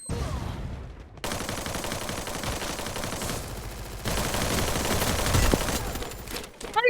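Rapid bursts of automatic gunfire in the Free Fire Max battle royale game, sustained and loud with brief pauses between volleys, close and continuous with almost no speech.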